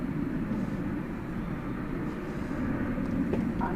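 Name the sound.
airplane departing DFW Airport runway 18 left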